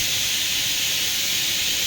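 Steady steam hiss from a pressure cooker on the stove at home, a continuous bright rushing that holds level and close throughout with no voices.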